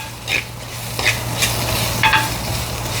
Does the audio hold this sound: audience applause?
no